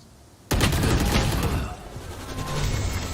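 Bursts of rapid automatic gunfire in the video game Valorant, starting abruptly and loudly and continuing as a dense spray of shots with a brief dip midway.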